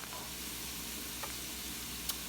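Vegetables and chopped onion sizzle steadily in a pan for cornbread dressing, a continuous soft frying hiss with a couple of faint clicks, heard alone at moderate-low level.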